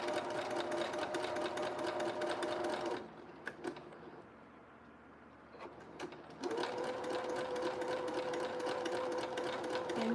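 A sewing machine stitches a zigzag seam on a blue jumpsuit, running steadily near and loud, pausing for about three seconds, then whirring on again.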